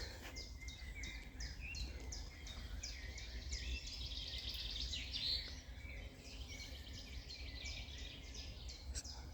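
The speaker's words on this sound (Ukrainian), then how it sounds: "Чуєте, як гарно співають?" Many birds chirp and sing at once in woodland on Khortytsia island, Zaporizhzhia, with steady high trills and calls over a constant low outdoor hum.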